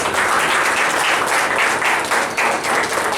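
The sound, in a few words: loud applause honouring the SIT team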